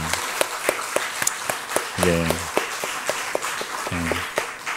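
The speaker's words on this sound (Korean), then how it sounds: "우리 다음 세대 자녀들을 위해서 축복하는 마음으로 함께 박수 쳤으면 좋겠습니다" A church congregation claps together to bless the children during a Sunday service, giving sharp, rhythmic, evenly spaced claps with brief bursts of voices between them.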